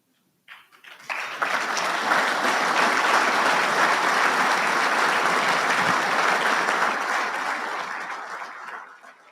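An awards dinner audience applauds the awardees. The clapping swells quickly from silence into loud, sustained, dense applause that holds for several seconds and then slowly tapers off.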